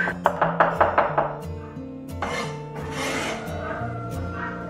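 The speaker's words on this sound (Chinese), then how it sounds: "再准备一小撮的干豆豉，然后稍微给它剁碎一点" A knife chops a small pinch of dried fermented black beans on a board, with a quick run of about eight sharp, evenly spaced chops up close, followed by softer scraping and rubbing sounds.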